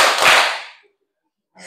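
Students in a classroom clap in unison for a counted clapping pattern, one loud ragged group clap fading out, followed by silence and a voice starting at the end.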